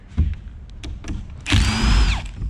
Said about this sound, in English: Ty, we need the drill.